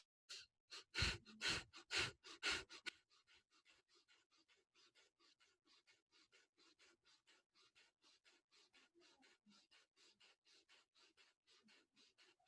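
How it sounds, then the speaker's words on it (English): Someone breathes deeply in and out through the mouth in a steady, even rhythm. A few strong, close breaths come first, then a long run of softer, quieter breaths repeating at a regular pace. "Breathing in and out of the mouth."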